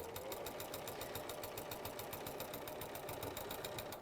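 A sewing machine runs continuously at a rapid, even rhythm while stitching an extra-long stitch across fabric, its needle chatter steady and close for the whole stretch.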